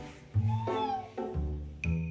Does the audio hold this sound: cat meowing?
yes